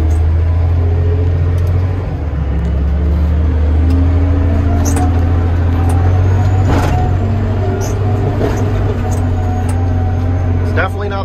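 Heavy equipment with a bucket scooping, pushing and levelling dirt while clearing and enlarging a field: a loud, steady low diesel engine drone runs throughout, with faint clanks and rattles rising above it.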